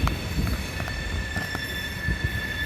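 A CSX coal train rolls past at Grafton, West Virginia, loaded cars rumbling close by while the wheels squeal in a sustained high whine over steady rail noise.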